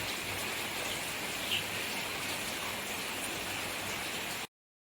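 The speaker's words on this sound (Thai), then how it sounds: "อยู่ดีๆฝนก็ตก ลงมาซะงั้น" Rain pours down steadily beside a garden fish pond, a dense, even hiss of falling drops that carries on unbroken and then cuts off abruptly at the end.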